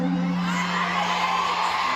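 A crowd at a stage show shouts and whoops together in a sustained, fairly loud roar that lasts the whole two seconds, with a few voices standing out above the mass.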